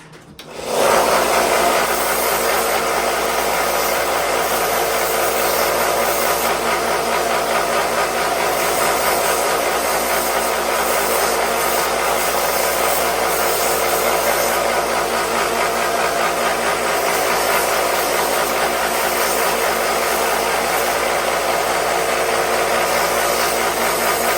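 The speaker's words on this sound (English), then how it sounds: "Now I'm gonna try to sand these pins down on the bolsters here." A power sander whirs steadily and loudly for a long stretch, sanding down bolster pins on an Old Timer pocket knife, a constant high buzzing drone that starts abruptly and never lets up.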